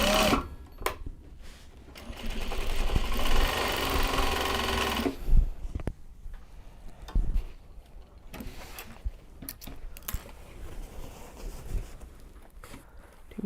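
A sewing machine stitches a Japanese fabric tote bag in bursts of rapid mechanical whirring, with a long run at the start, then shorter stops and starts mixed with handling clatter.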